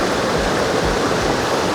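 River water flows steadily over rocks around an old branch in the middle of the Ilse river, a loud, continuous rushing close by with no voices.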